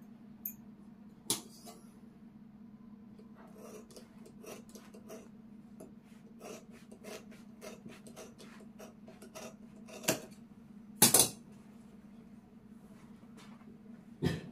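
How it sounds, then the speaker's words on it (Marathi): Scissors cutting cloth along a marked line while making a bag, faint scattered snips and rustling with a few sharper clicks, quiet and close against a low steady hum. "आता आपण ही जोडलेली खूण कट करून घेऊया."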